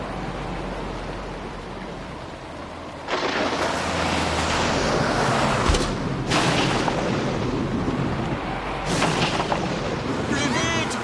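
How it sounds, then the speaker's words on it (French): Heavy thunderstorm over a dry village region, with steady rumbling that swells into loud broadband thunder cracks and rolling booms, alongside voices talking. "Un orage!"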